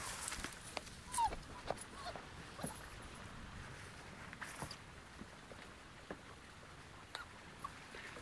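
Faint high whimpers and small yips from six-week-old puppies scattered across a quiet background, with occasional soft clicks and shuffling.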